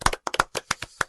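Handful of people clapping briefly on cue in a podcast studio, about eight or nine sharp separate claps over a second, close and dry.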